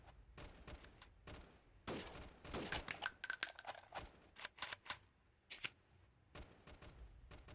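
Scattered bursts of gunfire from a weapon in the guerrilla warfare game Freeman: Guerrilla Warfare, with irregular cracking shots and rattling volleys clustered in the middle of the stretch, moderately loud with no voices.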